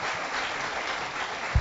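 A church congregation applauds to welcome visiting members, a steady wash of clapping from many hands that fills the room throughout, with a brief louder thump near the end.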